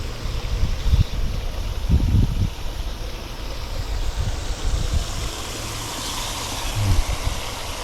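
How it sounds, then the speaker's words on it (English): Water rushes steadily into a flooded rice paddy in rural Japan, a continuous broadband wash of flow with a few low thumps and rumbles mixed in. "Look at the water going here now, filling it up."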